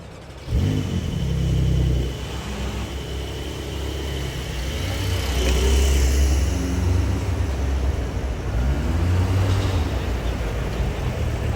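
A Porsche 911 at a classic car show in the NEC pulls away, its engine rumbling and revving steadily over several seconds, fairly close, with crowd murmur and a voice faintly underneath.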